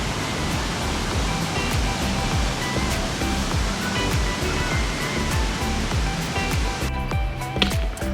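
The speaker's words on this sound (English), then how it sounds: "we checked out Piney Falls" Piney Falls, a Tennessee waterfall, pours with a steady, dense roar of rushing water that stays full and unbroken throughout.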